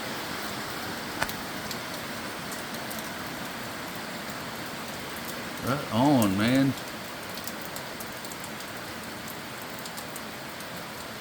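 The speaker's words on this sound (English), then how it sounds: "I don't even want to walk out there, it's raining so hard." Heavy rain pouring down steadily at a lakeside during a November storm at Clear Lake, California, forming a dense continuous hiss, with a brief spoken remark partway through.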